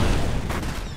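A grenade explodes in the shooter game F.E.A.R., a loud, close, booming blast filling the whole second with a rumbling low end and a brief crackle, no speech over it.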